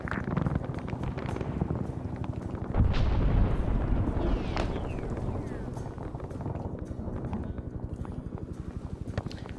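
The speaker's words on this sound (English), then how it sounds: "HE fragmentation 8 rounds 105 out" Repeated booming 105mm HE fragmentation artillery fire in an Arma Vietnam battle, dense rumbling blasts rolling continuously under chatter, with a heavier impact partway through.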